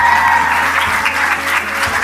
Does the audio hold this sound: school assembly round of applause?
yes